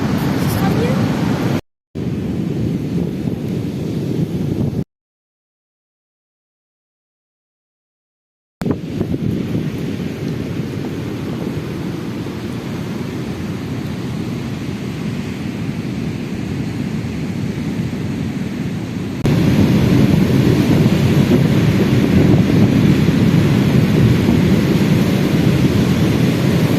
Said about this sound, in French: J'aime bien quand les vagues se déchaînent